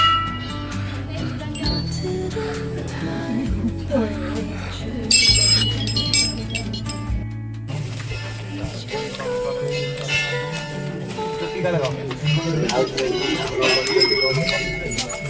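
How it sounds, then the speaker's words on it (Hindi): Clusters of temple bells tied with wish slips at a Nainital temple, ringing and clinking in bright overlapping chimes with sustained metallic tones, while people talk over them throughout. "इस टाइप की घंटे के गुच्छे होते हैं जिनको अपनी मान्यताओं के साथ में इन पर्चियों के साथ में बांध जाते हैं"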